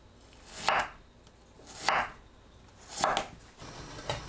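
A knife cuts Chinese yam into flat slices 0.6 to 1 cm thick, four distinct crisp chops spaced about a second apart against a quiet background.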